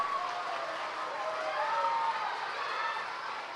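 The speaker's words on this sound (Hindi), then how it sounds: "तो सभी के लिए तालियां हो जाइए। Clapping for all." A school crowd applauds students from grades 1 to 5 after their Janmashtami program: a dense, steady wash of clapping that holds at an even level for several seconds, with a few cheering voices mixed in.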